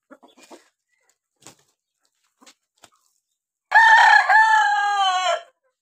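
A few soft, scattered clucks from chickens eating scattered wheat grains, then a loud, close rooster crow lasting nearly two seconds.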